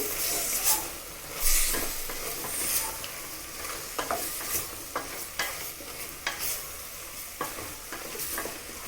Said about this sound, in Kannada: ಸ್ವಲ್ಪ ಎಲ್ಲ ಮಿಕ್ಸ್ ಆಗೋ ಥರ ಮಿಕ್ಸ್ ಮಾಡಿ